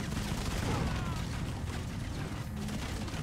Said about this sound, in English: That guy's got a minigun.